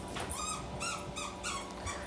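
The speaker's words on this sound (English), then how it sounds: "If you're hearing odd noises in the background while I'm doing this, it's because I have two dogs running around. One of them has a squeaky toy." Several high squeaks from a dog's squeaky toy in the background of a forge shop where two dogs run around, repeating in quick bursts.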